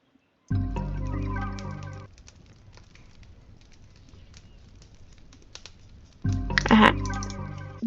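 Chickens cluck in the video game Primitive Society Simulator, with a loud burst of layered clucking and game sounds at the start, a quieter stretch, then another loud burst near the end.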